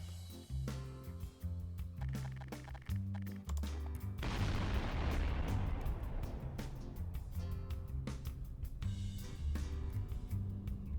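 Large bomb detonating in the game Garry's Mod, a sudden massive blast that swells into a long, loud rumbling roar with crackling debris, after a stretch of sharper repeated bangs.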